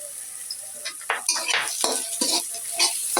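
Onions frying in a pan for beef muitha, stirred with a metal utensil that scrapes and clinks against the pan in irregular bursts over a faint sizzle.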